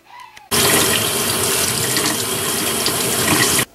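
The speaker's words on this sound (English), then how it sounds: "let's go ahead and rinse that skull off" Water from a tap runs steadily onto a bleached deer skull being rinsed for a European mount, a loud, continuous splashing rush that starts abruptly and stops after about three seconds.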